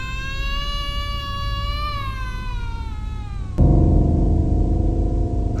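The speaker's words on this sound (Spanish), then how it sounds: "un llanto de bebé" A baby's cry rises and wavers in long, tonal wails over a steady low rumble, then drops abruptly under a louder droning background.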